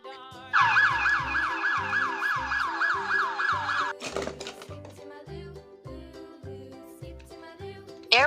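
A toy police pickup car siren yelps in a rapid, repeating wail for several seconds over a thumping background beat, then stops and leaves the rhythm alone.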